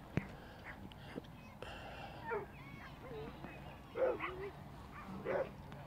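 Two dogs barking and yipping at each other at a high school softball championship game, short sharp bursts coming in clusters at middle distance amid crowd chatter and background murmur.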